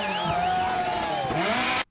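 A Group B rally car speeds past with its engine roaring loud and close and its tires squealing in a long pitch-bending screech, then the sound cuts off abruptly.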